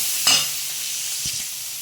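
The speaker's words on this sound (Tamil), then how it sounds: "வெங்காயம் நல்லா வதங்கி வந்துடும்." Onions sautéing in oil with salt for an oil-fried brinjal curry, a continuous soft sizzle with a couple of brief scraping stirs of the spoon in the pan.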